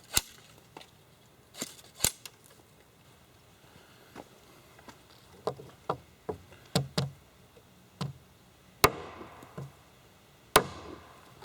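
Wooden saplings being trimmed and straightened into atlatl darts, with sharp irregular chopping and snapping knocks scattered across the clip, fairly close in a quiet outdoor setting.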